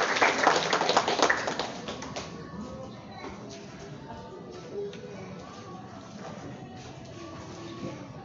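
An audience claps for a teacher at a school ceremony, with a burst of applause in the first couple of seconds that quickly thins to scattered taps and quiet shuffling under talk.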